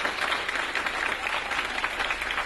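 Event audience at a Community Development Network of Maryland gathering gives a round of applause for executive director Odette Ramos, steady dense clapping from a crowd, moderately distant and unbroken, with no voices on top.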